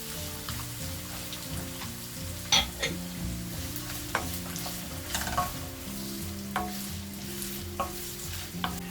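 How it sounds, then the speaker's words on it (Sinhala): Carrot strips frying and being stirred in ghee with ginger in a pan, a steady sizzle under background music with scattered sharp clinks and scrapes from a utensil. "මේ විදිහට දිගට කපාගත් කැරට් මේ ටික දාගෙන අපි කැරට් ටික හොඳට ටෙම්පරා කරගන්නවා"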